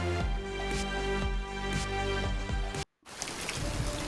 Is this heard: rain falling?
yes